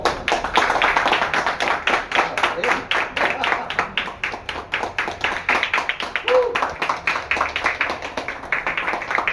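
A group claps in a fast, even rhythm at a car gift ceremony, the sharp claps repeating steadily for several seconds while people talk over them.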